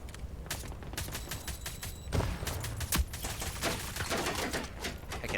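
Rapid bursts of gunfire from the video game Rogue Company, a fast rattling stream of sharp shots with a few heavier reports, loud and continuous, mixed with game effects.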